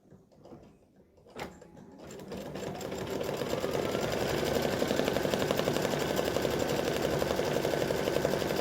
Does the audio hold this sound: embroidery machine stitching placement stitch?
yes